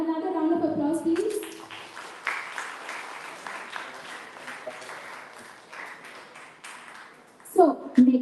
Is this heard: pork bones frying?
no